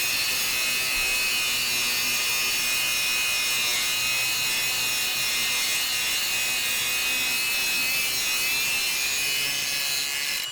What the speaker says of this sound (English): Definitely has a lot of power, more than enough to be able to take all that heavy rust off of there.